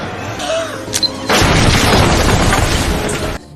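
A bomb going off in a film: a sudden loud, deep boom that swells into a sustained roaring blast with crackling debris, then cuts off abruptly.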